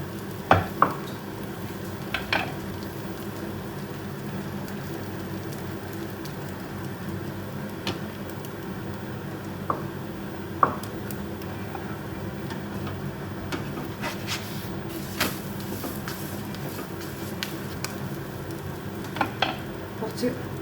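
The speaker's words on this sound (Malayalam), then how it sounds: "ഈ മുട്ട റെഡിയാക്കി വെച്ചേക്കുന്നില്ലേ അതൊഴിച്ചു കൊടുക്കാം" Beaten egg fries in a pan for a paratha, giving a soft continuous sizzle with occasional light clinks and scrapes of a utensil against the pan.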